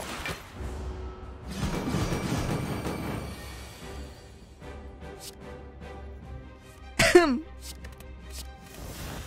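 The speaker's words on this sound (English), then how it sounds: "Was that the cutest cough you've ever heard?" A single short, high cough near the end, preceded by someone talking and faint background game music.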